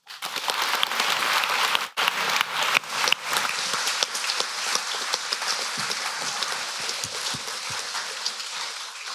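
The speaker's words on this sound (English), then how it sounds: "Can we please give them one more round of applause?" An audience in a debating chamber breaks into dense, sustained applause that starts loud, dips briefly, then continues as a steady wash of clapping with no talk over it.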